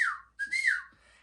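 A person whistles a short two-part call signal, a rising-falling note followed by a longer sliding tone, loud and close with no talking.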